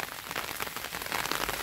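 Rain falls on a garden of flowering desert rose plants in northeast Brazil, a soft, dense, continuous patter of drops close by.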